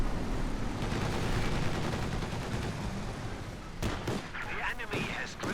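Dense machine-gun and rifle fire rattles on in a Company of Heroes 2 battle, joined by heavy artillery-like booms in a steady, busy wall of combat noise.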